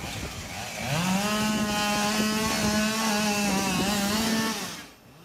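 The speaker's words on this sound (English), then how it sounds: "Crews had to cut the tree into smaller pieces with chainsaws to rescue them." Chainsaws run at a steady high rev while crews cut a large fallen tree off a trapped family's car, a loud sustained buzzing that holds for several seconds before dropping away.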